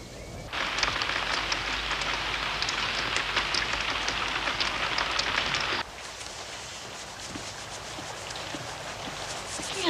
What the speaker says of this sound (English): We have nothing to do when it rains.